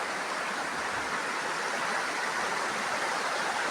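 Steady broadband rush of a flowing river, continuous and fairly loud with no voices, like water running over rocks at close range.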